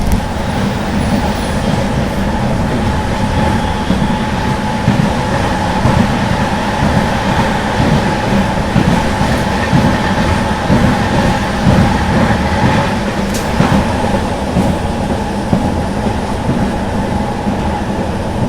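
An electric MEMU local train accelerates close by, its wheels and motors producing a continuous loud roar with rhythmic clatter underneath and no voices.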